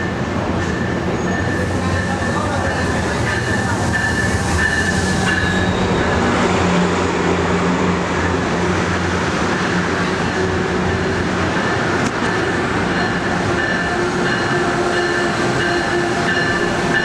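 Amtrak's Crescent passenger train pulls into Baltimore Penn Station, a loud, steady rumble of rail cars and wheels on track that fills the whole stretch with no pause.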